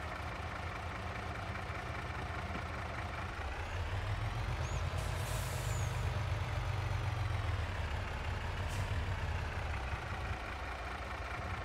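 A truck engine in the farming game Farming Simulator 22 idles and hums steadily at a constant low pitch, filling the whole stretch with a dense drone and a slight rise midway, with no talking over it.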